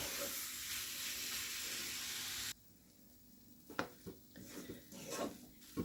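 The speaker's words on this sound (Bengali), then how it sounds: "এটাকে যতক্ষণ না জলটা শুকোচ্ছে ততক্ষণ অবধি আমাকে এটাকে ভাজতে হবে।" Red velvet halwa fries in a pan while its water cooks off, a loud even sizzle that cuts out abruptly, leaving quieter scattered stirring scrapes and clinks.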